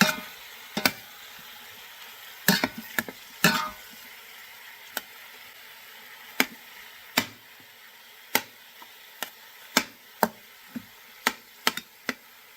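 Beef and onion stew braising in an Instant Pot gives off faint, sparse clicks and taps, scattered irregularly over a quiet background as it is stirred.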